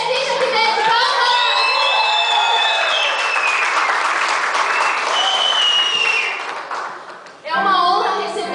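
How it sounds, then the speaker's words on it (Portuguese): A theatre audience at a Mother's Day school play breaks into loud, sustained applause mixed with children's shouts and cheering, the clapping filling the hall before briefly dipping and swelling again near the end. "Joquebede, vem aqui, Joquebede, palmas!"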